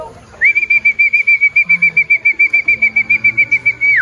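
Racing pigeon Sky beats its wings while coming in to land: a fast, steady train of close flapping pulses runs throughout, with a sustained high whistling tone above it.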